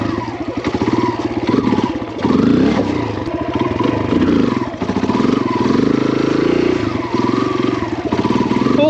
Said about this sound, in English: That was my longest wheelie ever.